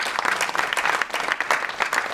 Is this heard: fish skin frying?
no